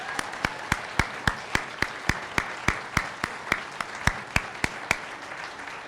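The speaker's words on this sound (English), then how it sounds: "Please give them a round of applause" An audience applauds students at a college speech showcase, with sharp, evenly spaced claps ringing out clearly over a softer spread of clapping, moderately loud and continuous.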